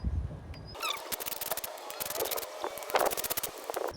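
Quick metallic ratcheting clicks from a socket wrench as coil-pack bolts are undone on a Toyota Celica engine during a valve cover gasket job, a close, fast run of ticks with brief pauses.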